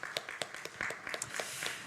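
A church congregation claps in thanks, scattered sharp handclaps over a faint room hum, fairly quiet and somewhat distant, irregular rather than rhythmic, with no voices.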